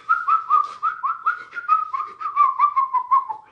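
A person whistles a lively, warbling tune of quick repeated notes, clear and close, with no talking.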